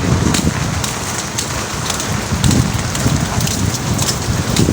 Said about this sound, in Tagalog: Maulan dito.